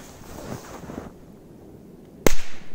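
An old Korsar 1 firecracker goes off with a single sharp, loud bang that rings out briefly, after a stretch of quiet outdoor wind noise.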